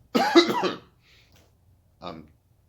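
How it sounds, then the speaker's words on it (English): A harsh, voiced cough up close, followed after a pause by a shorter, softer cough. "I apologize for the coughing and the hiccups"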